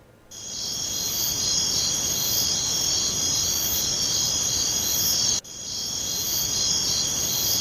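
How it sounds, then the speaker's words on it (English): Steady, shrill chirping of many crickets fills the air, a continuous insect drone with no other sounds. "Crickets."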